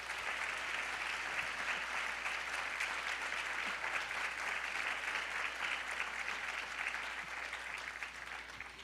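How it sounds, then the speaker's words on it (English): A round of applause at an annual luncheon in San Francisco, steady and dense clapping from a large seated audience, heard from a distance and fairly faint, holding evenly throughout. "let's give them a round of applause"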